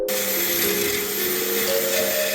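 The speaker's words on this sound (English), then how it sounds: "For removing spot welds, this is definitely the tool to use. It sands through the metal extremely quickly" A small belt sander grinds through spot welds on car body metal, a loud, steady high-pitched whine with a constant abrasive hiss that holds for the whole stretch, with no pauses or talk.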